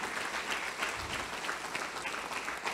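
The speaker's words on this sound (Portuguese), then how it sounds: "Aplaude o teu Senhor Jesus, aplaude." A church congregation applauds warmly and continuously, a dense wash of many hands clapping at steady volume throughout, with no single clap standing out.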